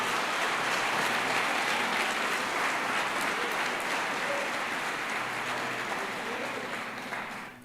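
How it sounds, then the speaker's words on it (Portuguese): A church congregation applauds together during a sermon, a dense, steady wash of clapping from many hands that stays loud throughout and eases off slightly near the end. "Você pode aplaudir ao Espírito Santo aqui."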